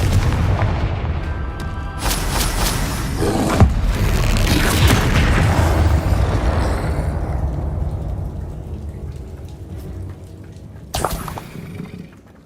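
Booming blast explosions from the Confringo fire spell in the Hogwarts Legacy video game, a dense rumbling burst sequence that decays, followed by a sharp second blast near the end.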